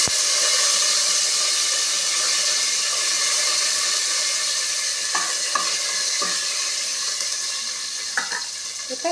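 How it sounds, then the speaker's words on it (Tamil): Mustard seeds spluttering in hot oil in a pan, a steady loud sizzling hiss with scattered sharp pops near the end, close and with no talking. "கடுகு பொரிஞ்சிட்ருக்கு."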